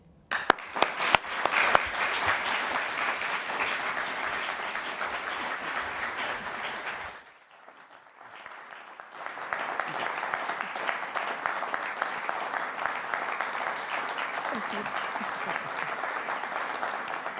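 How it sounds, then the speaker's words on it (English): A room of assembled journalists at a political think-tank event applauds a speaker taking the stage, with sustained clapping that briefly dips, then swells again and carries on steadily. "Amid applause from the assembled journalists, Badenoch was welcomed to the stage by Simon Clarke"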